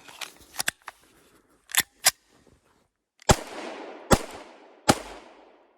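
Three Özkursan 9mm P.A.K. blank cartridges fired from a Blow TR-92 pistol. Three loud, sharp reports ring out a second or less apart, each trailing a brief echo, after several earlier clicks and clacks of gun handling.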